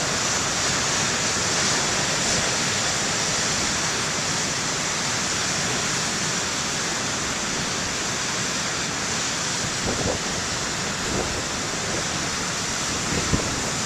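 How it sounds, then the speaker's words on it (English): Big ocean waves roll in at a lighthouse beach, a steady wash of broadband surf roar that barely varies, distant and unbroken, with no voices. "that's when you get the real big waves"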